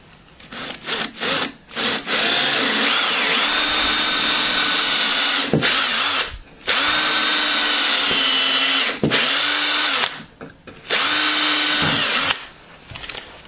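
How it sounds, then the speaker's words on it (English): A power drill bores holes through a wooden platform, whining in long sustained bursts that are split by brief pauses and short trigger blips. The drilling is loud and close, with no talking. "you're just going to work your way around the platform drilling these holes"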